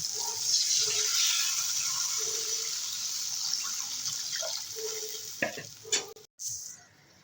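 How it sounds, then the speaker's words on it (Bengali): Broth poured into a simmering fish curry in a pan, a steady faint sizzle and bubbling with pouring liquid, followed by brief clatters and stirring near the end. "এবারে ঝোল দিয়ে দেবো"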